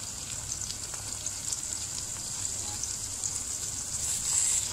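Garlic and ginger paste frying in oil in a pan, a steady crackling sizzle with small pops, close and moderately loud throughout.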